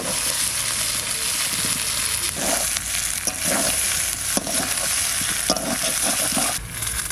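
Duck meat being sautéed in a pan for a village-style duck curry with new potatoes, a continuous loud sizzle broken by scraping stirs and soft clatters.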